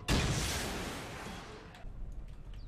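A rocket launched in the survival game Rust fires with a sharp, loud blast that booms and then slowly decays, followed by a few faint distant thumps and clicks.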